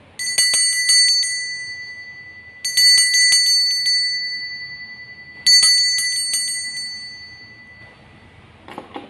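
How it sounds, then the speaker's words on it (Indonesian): A bright bell rings in three separate bursts of quick repeated strikes, each left to ring out and fade before the next. "kita akan lanjutkan dengan ditandai lonceng berbunyi"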